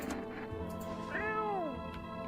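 A cat in a video game gives a single drawn-out meow, rising then falling, over faint background game sounds and a low hum.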